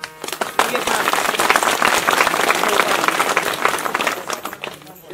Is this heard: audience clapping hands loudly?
yes